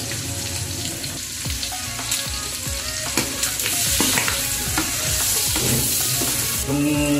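Pork belly cubes sizzle loudly in a pot with black pepper for sinigang na liempo, with steady frying crackle and repeated scraping stirs of a utensil against the pot, up close and with no talking.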